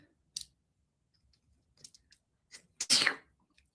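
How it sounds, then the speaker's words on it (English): A person sneezes once, a sharp, loud burst near the end, preceded by a short sniff and a few faint breaths and clicks in an otherwise quiet room. "I think I have to sneeze."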